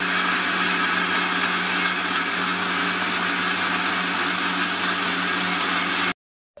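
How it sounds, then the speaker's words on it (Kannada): Mixer grinder blending chicken masala with garam masala and water, a loud steady whirring motor drone running continuously, then cutting off abruptly near the end. "ಇದನ್ನು ಮಿಕ್ಸಿ ಮಾಡ್ಕೋಬೇಕು."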